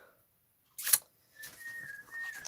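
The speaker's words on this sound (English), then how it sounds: "I've got my husband whistling in the kitchen." A man whistles in a home kitchen: a faint, thin sustained tune drifts in from another room, soft and wavering, after a brief sharp rustle or clatter nearby.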